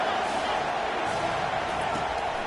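A packed stadium crowd at a Washington State college football game roars steadily on a big third down, a dense and continuous wall of cheering noise that holds at an even, loud level throughout.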